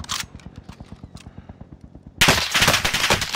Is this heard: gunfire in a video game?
yes